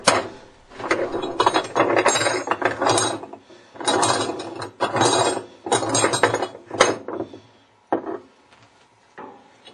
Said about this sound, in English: You will need to turn it clockwise to remove the hub nut.